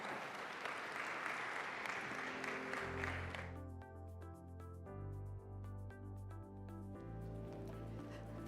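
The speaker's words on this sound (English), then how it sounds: "Round of applause." Audience applause at a plenary session of a forum, a dense steady clapping for about three seconds that then gives way to sustained music chords with no voices.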